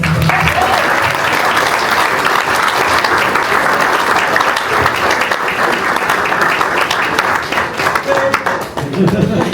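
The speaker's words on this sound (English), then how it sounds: "Give her a round of applause." Wedding guests at a Bodleian celebration in Oxford break into loud, continuous applause that fills the room, holding steady for several seconds before easing slightly, with faint voices mixed in.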